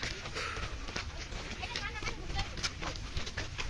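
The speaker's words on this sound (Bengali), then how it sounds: "দেখো কত বড় রাম ছাগল," A large ram goat bleats at a busy tourist spot near Jaflong in Sylhet, its calls faint against steady crowd and outdoor bustle.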